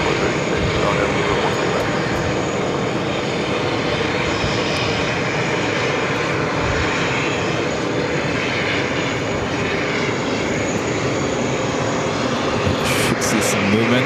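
A Delta Airbus A220-300 jet at JFK, its engines producing a loud, steady roar with broadband rumble that holds throughout, close and continuous, with no talking over it.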